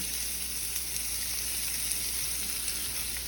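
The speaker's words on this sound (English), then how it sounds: "So now I got my burgers in my pan, heating up, cooking nice and evenly." Seasoned burger patties cooking in a pan, a faint, even frying sizzle that holds steady throughout with no talking.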